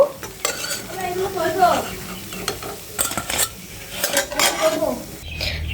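Meat-filled puli pitha deep-frying in oil sizzle softly while a spatula repeatedly clanks and scrapes against the pan, with bursts of utensil clatter over the bubbling.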